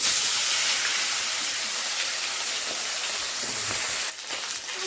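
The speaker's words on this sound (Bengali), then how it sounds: "এবারে মাথাটাকে এই তেলের মধ্যে আমি ভেজে নেব" A fish head fries in hot oil, giving off a loud, steady sizzling hiss that fades slightly over time, with a brief clatter near the end.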